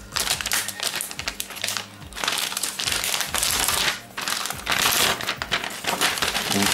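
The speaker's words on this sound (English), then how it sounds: "So let's remove this plasticky area." Plastic wrapping is crinkled and peeled off an Asus Transformer Pad Infinity TF700T keyboard dock during an unboxing, a close, loud, continuous crackling and crumpling with brief pauses, without talk.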